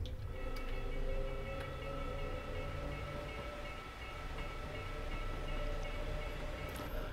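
An Allegra electric train pulls away on the Bernina line in the Train Sim game, giving a steady rolling rumble and motor drone with faint tonal whines throughout, no voices.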